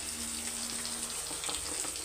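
Water poured into a pan of spices and Kashmiri chilli powder cooking on the stove makes a steady, even rushing splash that lasts throughout.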